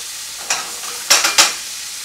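Soft shell crabs sautéing in a pan with gravy give off a faint steady sizzle, broken by a few short bright scrapes of stirring. No one speaks.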